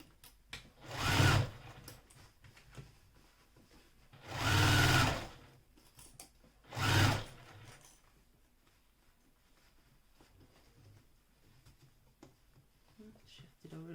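A sewing machine set to a smaller stitch length runs in three short, close bursts, with quiet pauses between each stitching run.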